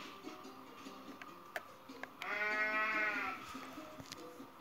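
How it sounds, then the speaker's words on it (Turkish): A goat in the video game Goat Simulator lets out one long, loud, wavering bleat in the middle, over faint game ticking and background noise, with softer short sounds before and after. "osuruk sesi gibi olan keçinin meylemesi"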